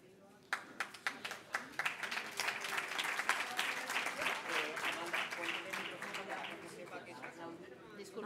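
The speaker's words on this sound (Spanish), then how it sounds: "Se aplaude." An audience at a union meeting breaks into applause, starting with a few isolated claps that quickly swell into dense, sustained clapping from a crowd before slowly thinning out.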